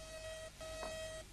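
A computer alarm in a science-fiction radio drama sounds as two steady electronic beep tones, one short and one longer with a brief gap between them, clear and alone.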